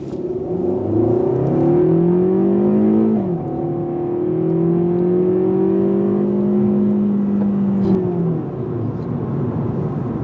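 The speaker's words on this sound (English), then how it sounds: "we're gonna put this thing through a little bit of acceleration and see what it's like" A 2015 Fiat 500 accelerates from inside the cabin, its small engine droning and rising in pitch through one gear, dipping at a shift, then climbing steadily again before easing off.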